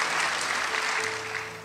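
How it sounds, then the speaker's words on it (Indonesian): A church congregation claps together, giving dense, continuous applause with a faint sustained tone behind it, which fades slightly toward the end. "Saudara, tepuk tangan buat Tuhan."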